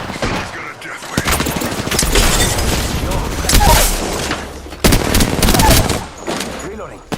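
Heavy gunfire in an Apex Legends match: dense, loud bursts of automatic shots and booms nearly continuously, with a brief lull partway, under occasional game voice callouts.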